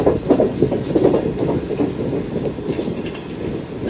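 The Pakistan Railways Green Line express rolls steadily along the track near Lalamusa, with loud continuous rumble and rhythmic wheel clatter heard from on board.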